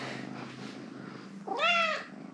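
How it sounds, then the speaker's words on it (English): A kitten gives a single short, rising meow, close and clear, after a quiet moment of low background hum. "The cutest little kitten in the world."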